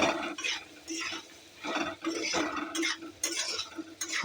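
A spoon gently stirs ground ginger, grated ginger and cumin in a pan, producing soft rhythmic scraping strokes with a faint sizzle underneath, close and unhurried.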